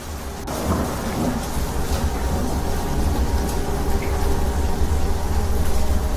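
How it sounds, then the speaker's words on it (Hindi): Heavy rain pours down steadily while deep thunder rumbles and rolls through, loud and close, with no voices. "आज रात वहाँ भयंकर बारिश हो रही थी।"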